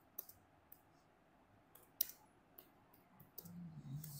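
A computer keyboard is tapped in brief, scattered clicks, a few sharp keystrokes spaced apart, faint and close in a quiet room, with a soft low hum near the end.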